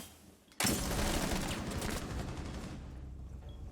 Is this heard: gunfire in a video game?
yes